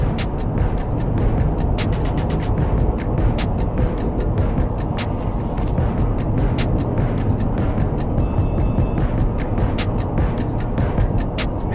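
A supercharged V8 Cadillac Escalade V-Series SUV drives at speed, with a continuous broad roar of engine, tyre and wind noise and a regular ticking pattern over it.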